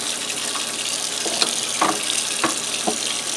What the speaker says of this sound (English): Next thing it says is to wash our fish.